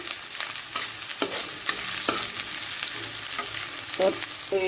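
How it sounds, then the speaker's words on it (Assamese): Steady close sizzling of onion and tomato frying in a pan, with intermittent scraping stirs of a utensil throughout. "এতিয়া টমেটোখিনি গলি যোৱালৈকে অলপ ভাজি ল'ম"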